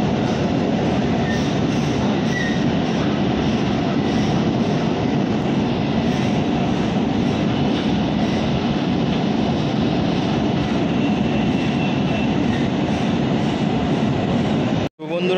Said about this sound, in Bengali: তো চলে এসছে আমাদের মেট্রো,